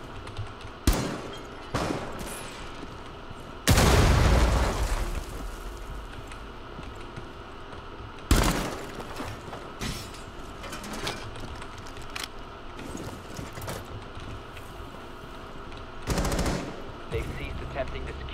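Rainbow Six Siege gunfire, scattered sharp shots and a few longer automatic bursts with quieter gaps between them, mixed with game sounds and a player talking.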